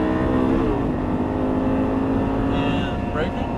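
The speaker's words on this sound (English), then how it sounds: "back in the gas. And upshift." An Audi R8 accelerating hard on a race track, its engine note climbing steadily before an upshift drops the pitch and it pulls again, with a voice talking over the engine.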